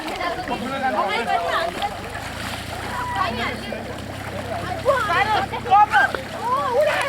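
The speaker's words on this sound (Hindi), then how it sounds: "ये सैयाह उसको नहा रहे हैं, पानी उसको लगा रहे हैं।" Bathing elephant in Chitwan National Park, Nepal, being splashed by tourists: continuous water splashing and sloshing with busy voices of people talking and calling over it throughout.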